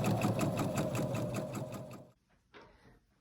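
A sewing machine stitches dress fabric in a fast, even rhythm for about two seconds, loud and close, then stops, followed by a brief softer burst of handling noise.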